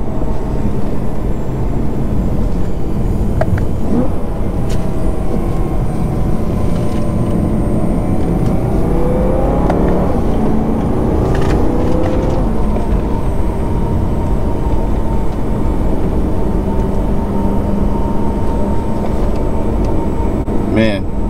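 The supercharged engine of a 2011 BMW E90 M3 drones steadily and loudly on a back road, its pitch sliding up and down as it shifts through gears, with road and cabin noise underneath.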